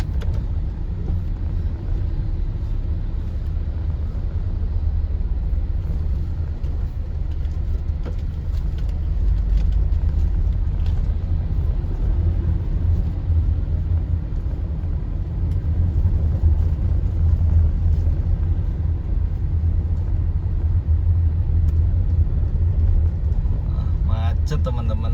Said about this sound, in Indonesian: Kaliwungu Kota macet teman-teman.